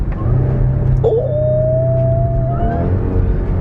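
Deep, steady rumble of a supercharged Audi tow rig engine during downshifts, with a rising whine sliding up and holding, close and loud throughout.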